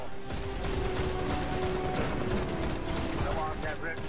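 In a hard-mode Destiny raid against Crota, weapons fire in rapid, overlapping bursts, a dense crackle of gunfire with mechanical clatter running throughout.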